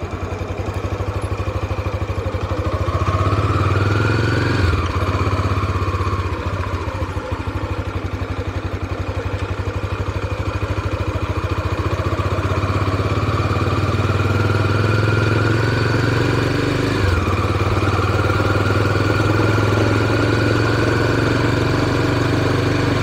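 A motorcycle engine idles steadily and loud up close for a long stretch, with a couple of brief revs rising and falling over the constant mechanical hum.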